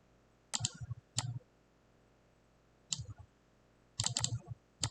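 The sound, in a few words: typing text on a computer keyboard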